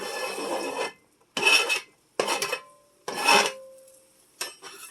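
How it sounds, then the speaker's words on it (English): A utensil scrapes diced onions into a Dutch oven in four or five separate short rasping strokes with quiet gaps between them. "we're going to take the onions that we just diced and we're going to scrape them right into the Dutch oven"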